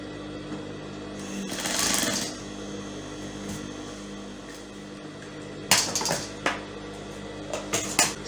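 A sewing machine stitches a pleated organza ruffle sleeve at the armhole in short clattering bursts, with quieter mechanical rattles and handling knocks between runs.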